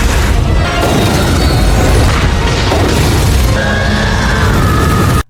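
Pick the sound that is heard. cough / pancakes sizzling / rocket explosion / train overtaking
rocket explosion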